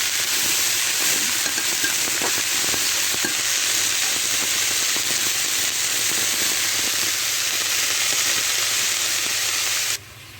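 Thick-cut cabbage leaves frying in a pan for a fish curry, giving a loud, continuous close hiss and sizzle with a few faint stirring knocks, cutting off abruptly near the end.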